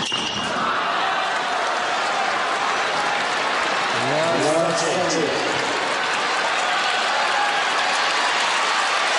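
A tennis crowd at the US Open in 2006 gives a sustained wash of applause and murmuring, dense and steady throughout, with a brief rising whoop-like voice in the middle and a commentator speaking over it.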